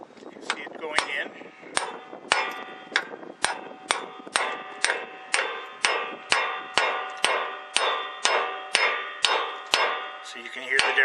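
A hammer drives a grease seal into an axle hub with steady, evenly spaced metallic strikes, about two per second, close and ringing, with no talking.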